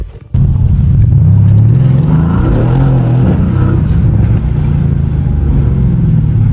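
A 500 hp AMG engine rumbles loudly after a brief click, settling into a deep, steady idle with slight rises in revs, close and alone without talk.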